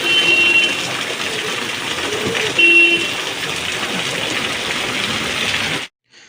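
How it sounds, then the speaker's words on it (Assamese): Heavy rain pours down in a dense, steady hiss close by, with a faint tonal hum and brief beeps underneath, before cutting off abruptly near the end. "বহুত ডাঙৰ বৰষুণ আহিছে"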